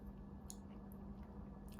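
Close, quiet chewing of a high-protein vegan gluten-free lasagna noodle, soft squishy mastication with a faint little crunch, brief and without talk.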